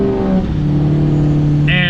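A 6.0 Powerstroke diesel truck with a 5-inch straight pipe revs loudly up close, holding a droning engine note for a short burst.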